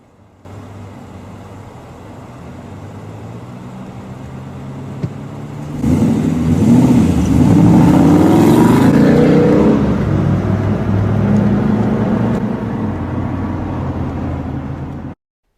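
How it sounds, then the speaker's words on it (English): A Ford Mustang V8 engine idles, then roars into a loud, sustained rev that rises and holds before easing back toward a steady rumble. "obviously that is a V8"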